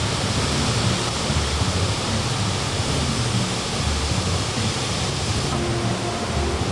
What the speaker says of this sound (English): The scenery at Apupa Falls is enchanting. Perennially flowing waters